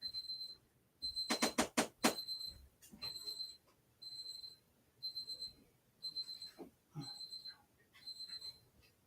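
Kitchen timer going off while a turkey roasts, giving repeated short high electronic beeps in spaced bursts, with a denser rapid cluster early on and soft background noise throughout.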